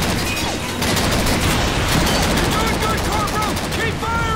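Gunfire in the video game Call of Duty 2 rattles as loud continuous bursts of automatic fire mixed with explosions, with a voice talking underneath.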